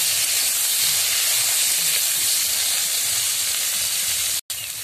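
Boiled bottle gourd stems frying in hot mustard oil, a loud steady sizzle and hiss that runs nearly unbroken and close, with one brief dropout near the end.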